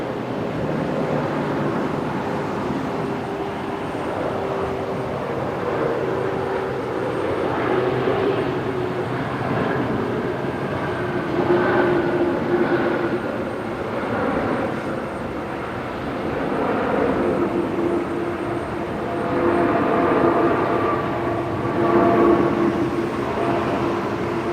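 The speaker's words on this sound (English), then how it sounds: "I've gone and almost missed Qantas 126 there, just about to touch down" A Qantas airliner, flight 126, touching down at Brisbane Airport at night, its broad engine roar holding steady and loud at close range, with a few rising surges and a faint whining tone running through it, no voices.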